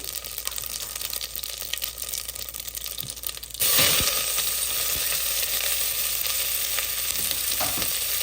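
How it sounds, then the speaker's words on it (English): Cumin seeds fry in a hot pressure cooker for zeera rice: a steady close sizzle that swells louder midway, with light crackles and a few scraping stirs. "I will add the jeera. Once that pops, I'm going to add the onion."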